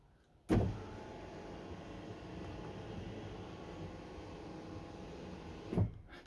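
The electric overcab bed in a Chausson 640 Titanium motorhome is raised, starting with a clunk, then a steady motor hum for about five seconds, and ending with another clunk as it stops, close and without talk.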